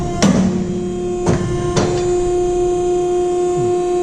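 An ironworker machine punches a hole through steel plate, giving three sharp metallic clunks spaced about a second apart over a steady electric motor hum, with no talking.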